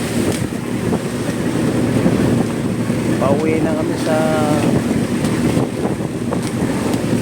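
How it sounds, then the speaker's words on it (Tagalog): Strong wind roars across the microphone with the wash of waves at sea off Jimenez, Misamis Occidental, while someone talks over the steady, blustery noise. "So malakas ang hangin, malakas ang alon,"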